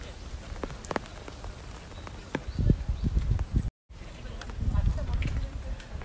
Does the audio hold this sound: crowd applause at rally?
no